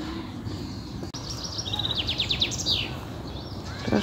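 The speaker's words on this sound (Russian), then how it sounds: "Хорошо, здесь птички поют." Birds sing by a pond on a warm May day, a starling among them, with quick repeated chirps and trills rising over a steady outdoor background hiss, moderately near.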